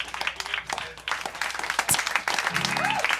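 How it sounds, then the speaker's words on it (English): A short burst of applause from a small group, scattered claps mixed with voices and crowd noise, fairly close. "Warren initiated that clap"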